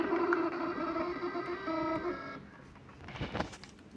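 An inkjet printer prints a test page, giving a steady mechanical whirring drone for about two seconds that cuts off, then softer clicks and shuffling sounds of the mechanism, close and with no talk.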